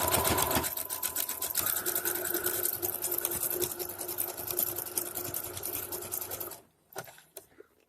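A sewing machine runs steadily for about six and a half seconds, zigzag stitching elastic onto a pair of homemade shorts. The whirring is close and continuous, then stops abruptly, leaving a few faint handling sounds.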